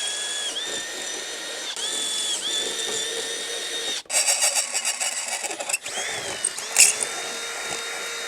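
Whirring drill or powered driver tightening bolts that fasten a spotlight bar to the front fender brace of a Suzuki DR650 motorcycle, with a rattling, ratchet-like burst in the middle and quieter mechanical hum on either side.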